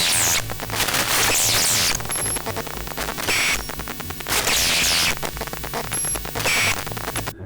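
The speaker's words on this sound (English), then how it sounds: "this also picks up a near field interference in a slightly different way" Near-field electromagnetic interference picked up by an induction coil receiver: loud, harsh buzzing static with pulsing low hum, high whines and bursts of hiss that swell and fade in cycles.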